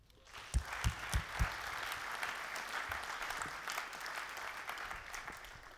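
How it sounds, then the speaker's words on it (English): An audience applauding a speaker coming on stage: a few loud claps at first, then sustained, even clapping from a crowd that holds steady to the end. "so give him a big applause"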